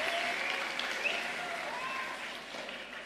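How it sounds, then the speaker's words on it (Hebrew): Audience at a space olympiad final applauds in a hall, with steady, moderately loud clapping from many hands that eases slightly toward the end. "כן, בהחלט אפשר למחוא כפיים."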